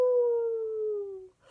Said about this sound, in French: Il leur semblait entendre de partout des hurlements de loups prêts à les dévorer.